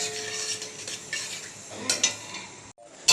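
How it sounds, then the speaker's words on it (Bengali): Fried chicken stirred in a pan with soy sauce while making chilli chicken, giving soft scraping and occasional utensil clinks over a faint sizzle, fairly quiet and close. "এবার নাড়িয়ে চাড়িয়ে নেব"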